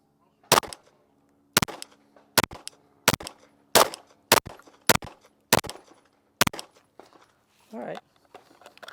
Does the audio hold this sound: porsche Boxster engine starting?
no